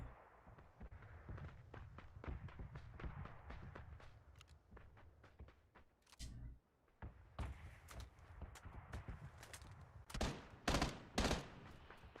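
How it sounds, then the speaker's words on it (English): Gunfire aimed at players in a Stadia shooter: scattered volleys of quick, sharp shots at varying distances, building to a few louder bursts near the end, all fairly quiet overall. "Are they shooting at us?"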